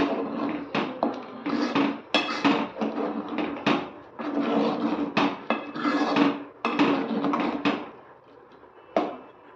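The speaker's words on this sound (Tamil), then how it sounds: "சேர்த்துட்டு கலந்து விட்டுக்கலாம்." A metal utensil scrapes and clinks against a cooking pot while Tamil sodhi, a coconut milk stew, is being stirred, giving steady repeated clatters close by with brief pauses and no talking.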